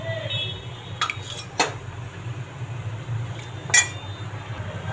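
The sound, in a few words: spoon adding cooked dal to sambar in pot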